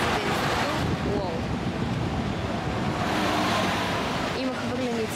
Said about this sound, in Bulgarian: много духа вятър и той е доста студен